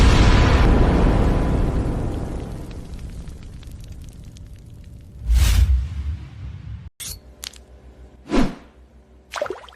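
Weapon detonation in an animated sci-fi battle, a loud roaring explosion that fades over several seconds, followed by separate booming blasts and whooshes.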